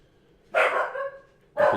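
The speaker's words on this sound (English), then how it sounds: "Dog's barking." A dog barks twice, first a longer bark lasting over half a second and then a second sharp bark starting a second later, fairly close and clear against a quiet room with no talking.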